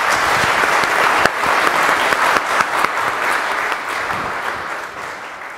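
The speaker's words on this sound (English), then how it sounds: "Let's give us all a round of applause" Sustained applause from a debate audience in Dallas fills the hall, a dense steady roar of clapping with a few sharper claps standing out, fading slightly toward the end.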